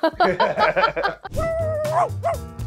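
A dog barks and yips in quick bursts during a demo of an AI dog-bark translator, loud and close, followed by a whining, whimpering tone.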